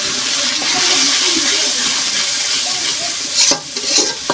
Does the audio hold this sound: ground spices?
yes